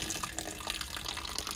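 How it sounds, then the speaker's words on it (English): Water pours in a continuous, close splashing rush into a bucket during home bean sprouting, steady and fairly loud with no voices. "pour that water into the bucket"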